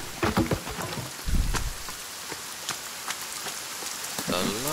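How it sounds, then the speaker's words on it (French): Steady heavy rain shower hisses across the whole stretch in a forest setting, with scattered louder drops and a couple of brief low rumbles; a voice murmurs faintly near the start and end. "Oh, la bonne averse. La bonne flotte."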